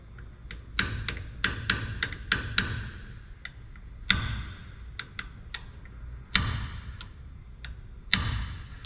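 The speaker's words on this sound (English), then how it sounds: "I am going to try to tap it with a hammer gently." Gentle hammer taps on the rear main seal of a 1951 Chevy truck engine block ring out as sharp metallic clicks, first in a quick run of seven or so, then spaced single taps, fairly close and alone.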